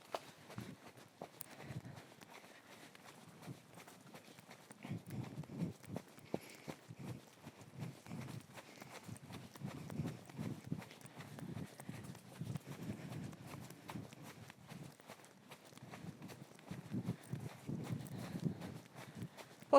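Horse hooves clip-clop in a steady two-beat posting trot during a ride, a quiet and even rhythm of soft thuds that stays close throughout.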